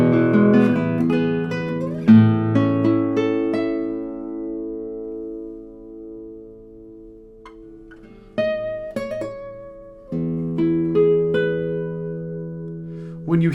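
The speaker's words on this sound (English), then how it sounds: "That area of the guitar sounds great." A 1962 Robert Bouchet classical guitar plays plucked notes and chords that ring out and decay, with pauses between phrases, close and clear with no talk.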